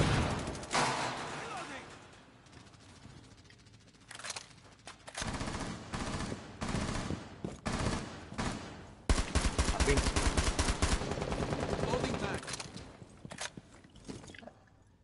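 Bursts of rapid automatic gunfire and single shots crack through a Rainbow Six Siege match, coming in loud clusters separated by brief lulls, with a player talking over the action at times.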